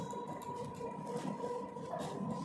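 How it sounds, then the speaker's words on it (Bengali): A train passing close by, a steady rumbling drone with a sustained tonal hum, continuous and moderately loud for the whole stretch. "তোমরা ট্রেনের আওয়াজ অবশ্যই শুনতে পাচ্ছ"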